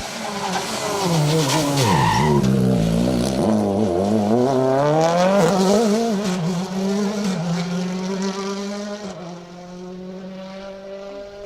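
A rally car on the Manx Rally 2023 stage brakes hard with a long, loud tyre skid and engine howl, pitch sweeping up and down, close by, then easing to a steadier drone; no talk.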